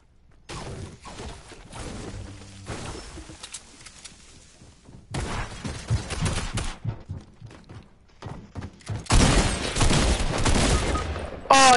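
Gunfire rips through a John Wick game mode in bursts of rapid shots and impacts, separated by quiet gaps and growing louder and denser toward the end.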